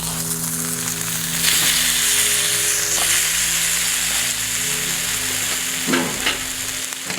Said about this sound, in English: Now let's get the frozen steak on here.